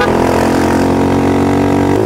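Loud, steady motorcycle exhaust drone from a Sunday group ride in Lembang, sustained throughout with a slight shift in pitch near the end and no talk.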